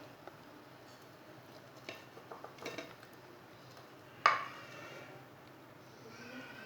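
Boiled meat is stirred with spices in a pot or bowl, soft scraping and light clinks of a spoon against the vessel, with one sharper clatter partway through, all fairly quiet.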